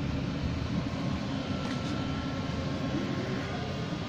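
Blower on a smokeless wood-burning stove burner runs continuously, a steady low whooshing hum of forced air with faint fire crackle, close and unbroken with no speech.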